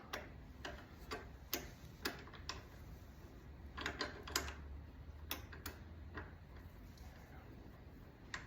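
Series of small dry clicks from a torque wrench tightening a lower fairing bolt on a 2024 Harley-Davidson Road Glide, quiet and irregularly spaced against a soft background hiss.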